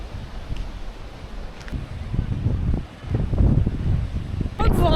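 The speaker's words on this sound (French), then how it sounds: "je vous jure qu'il y a vraiment beaucoup de vent" Strong wind buffets the microphone outdoors in the south of France, a steady low rumble with gusting surges, and a brief faint voice near the end.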